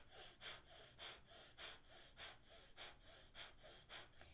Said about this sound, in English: we are breathing only through our nose